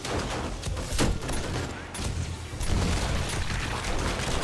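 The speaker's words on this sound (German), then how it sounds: "Also irgendwas ist da gerade explodiert." Explosions and gunfire in the video game 7 Days to Die during a horde night, a run of sharp cracks and booms over a continuous rumbling background, moderately distant.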